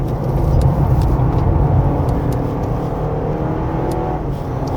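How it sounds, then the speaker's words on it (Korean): A 2025 Honda CR-V Hybrid 4WD engine drones loudly and steadily inside the cabin on a winding mountain road, its pitch swelling and easing with no voices heard. "지금 엔진 소리가 높아졌다가 낮아졌다가 한다고 하더라도"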